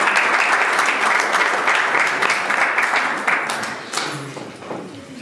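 An audience at a church thanksgiving gathering claps loudly and steadily, a dense, close wash of applause that slowly fades toward the end.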